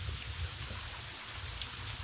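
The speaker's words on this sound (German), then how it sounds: "Wenn es so natürlich nachts regnet" Rain falls at night in a Panama forest as a soft, steady hiss of drops, faint and continuous with no voices.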